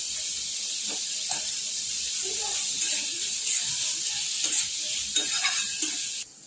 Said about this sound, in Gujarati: અને કેપ્સિકમ બેવને થોડી વાર આપણે શેકી લેવાનું છે